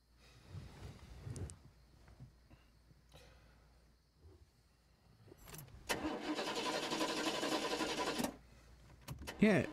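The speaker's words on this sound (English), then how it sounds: "why would you turn your car on?" Car engine starting up after a quiet stretch, a few faint handling noises then a loud sustained cranking and running rumble lasting a couple of seconds before cutting off.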